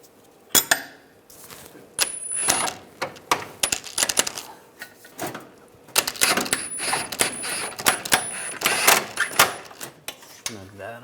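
Metallic clinks and clanks of a wrench and hardware while snugging a rear lower control arm bolt on a 2006-2009 Mercedes-Benz E350, sharp bursts in irregular clusters, up close, with someone talking in between.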